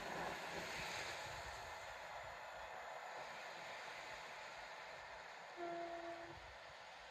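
A train rolls past with a steady rumbling wash of noise, then sounds a single clear horn blast for under a second near the end, at moderate distance, with no voices.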